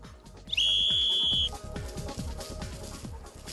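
A single long, steady rescue whistle blast sounds close and loud for about a second, then gives way to quieter background rumble and clatter.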